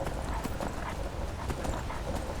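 Horse hooves gallop in Skyrim Special Edition, a modded game, on a plain vanilla horse, with a steady rapid clip-clop beat running continuously and fairly loud throughout.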